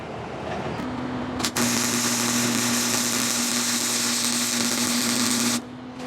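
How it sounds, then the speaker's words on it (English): A VW shift coupler is arc-welded in a garage, giving a loud steady buzzing hiss that starts abruptly, runs unbroken for about five seconds with a faint hum beneath, then cuts off. "I'll probably actually thread this thing in here a little bit too to help absorb some of the heat from the welding."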